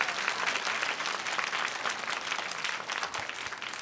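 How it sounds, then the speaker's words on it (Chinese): A church congregation claps together in steady, dense applause that carries on evenly throughout at moderate loudness, with no voices standing out. "拍手把荣耀归给主"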